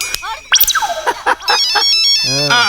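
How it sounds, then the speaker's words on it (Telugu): Mobile phone ringtone playing a bright, rising electronic melody, near and fairly loud, with short bursts of talk at the start. "ఫోన్ ఫోన్ ఫోన్ వచ్చింది."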